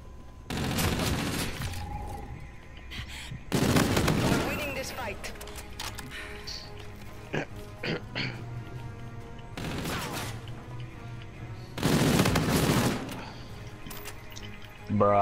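Video game gunfire, loud bursts and volleys of shots at irregular intervals with quieter stretches between, some sharp single cracks, under intermittent talk.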